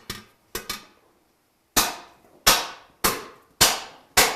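A hammer striking metal in an artist's metalwork studio, seven sharp loud impacts, a quick double hit and then a steady run of evenly spaced blows, each ringing briefly before dying away.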